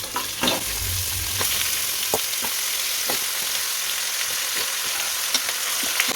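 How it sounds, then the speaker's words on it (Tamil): Beef bones are added to sautéed onions in a pot, sending up a continuous, fairly quiet frying hiss with scattered clinks and scrapes of stirring and no talk. "நான் கொஞ்சம் எலும்பு வாங்கி அதை கழுவி வச்சுருக்கேன். இப்போ அதான் இதில் சேர்த்துப்போம்."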